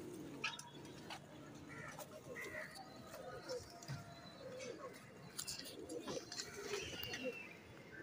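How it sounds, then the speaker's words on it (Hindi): A champion pigeon coos softly in short repeated phrases, faint and close, mixed with light rustling and other small bird sounds in a quiet setting. "बड़ा पेटर्न कबूतर है"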